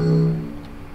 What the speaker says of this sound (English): Let's unlock it and listen to the sound.